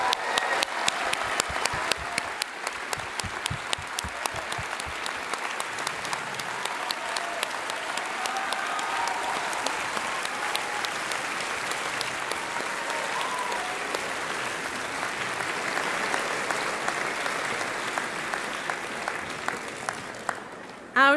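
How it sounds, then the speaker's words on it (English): An audience at a Central European University graduation ceremony for the class of 2011 applauds the new graduates, with steady, dense clapping sustained throughout that thins slightly near the end. "please join me in applauding the new members of Central European University"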